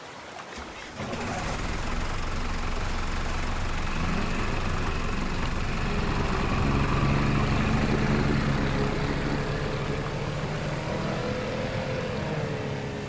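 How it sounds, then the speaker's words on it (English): A motorboat engine runs steadily as the boat is driven out for a scuba dive in Korea, a continuous loud drone with water noise starting after a brief quiet moment and holding for the whole stretch. "You all can put on your scuba gear while I drive the boat."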